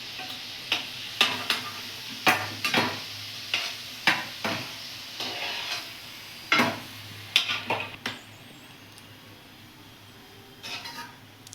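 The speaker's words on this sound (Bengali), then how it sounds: "লাল লাল করে ভাজতে হবে, লাল লাল করে না ভাজলে ভিতরে কাঁচা থাকবে" Gulab jamun frying in hot oil, a steady sizzle broken by repeated sharp clicks and taps of a utensil against the pan, close by and without talk.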